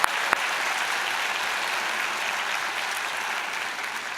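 A graduating class at a morning college convocation applauding: steady, dense clapping from a large crowd filling the hall for several seconds, with a couple of sharp louder claps at the start.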